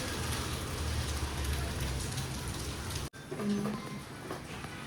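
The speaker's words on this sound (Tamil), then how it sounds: "அருமையாக மழை பெய்யுது" Rain falls outdoors during family cooking of Christmas biryani, a soft, steady patter that breaks off abruptly partway through and then resumes more faintly.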